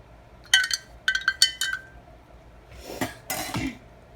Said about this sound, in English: Gonna stir it one more time